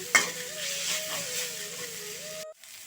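Ginger garlic paste sautéing in a pan for a hariyali chicken curry, a steady close sizzle with a stirring clank at the start, then the frying cuts out abruptly near the end.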